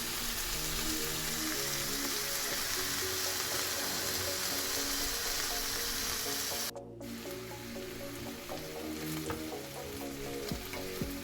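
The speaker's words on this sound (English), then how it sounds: "And we'll cook that up in a frying pan." Chicken breast pieces sizzle and crackle steadily in a hot frying pan, a dense, constant frying hiss with occasional stirring sounds.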